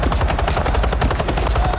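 Helicopter engine in a French war action film, a loud continuous rotor thump and turbine whine filling the scene, with rapid repeated pulses that could be gunfire mixed in.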